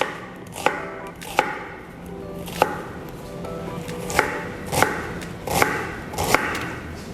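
A medium-sized raw onion is finely diced with a knife on a cutting board, giving about nine crisp, close knife strikes at uneven intervals over a low background hum.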